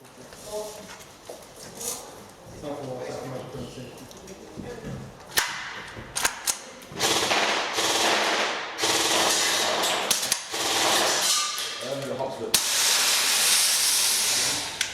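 A WE SMG-8 gas airsoft gun firing in cold weather, loaded with Zero One Pro, WE green gas and a specialised winter gas: bursts of sharp cracking shots with hissing gas venting, some single pops and longer strings, outdoors.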